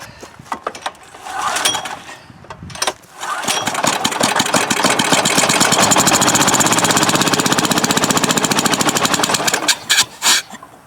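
A Westinghouse generator engine sputters and catches on starting fluid: a few rough, uneven bursts, then a sustained, rapid, loud chugging run that falls away near the end.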